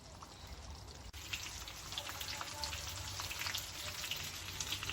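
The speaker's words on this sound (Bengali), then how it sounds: "এখানে চিকেন ফ্রাইগুলো ভেজে নিচ্ছি।" Chicken fry pieces crackling in hot oil in a home kitchen, a dense, continuous sizzle with fine popping specks, steady and moderately close throughout, with one brief dip early on and no talking.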